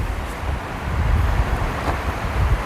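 Wind buffets an outdoor microphone in a steady low rumble, loud and continuous with gusty swells throughout, no voice over it.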